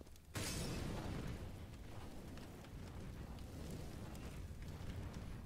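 A thrown fire grenade ignites in a competitive shooter matchmaking game with a sudden whoosh, then a steady crackling, hissing roar of burning that continues throughout, close and fairly loud, with no voices.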